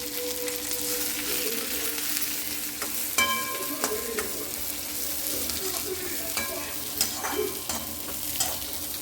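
Mint leaves fry in a pan with a continuous soft sizzle, interrupted by occasional scraping and tapping as a utensil stirs them; close and fairly quiet, no talking.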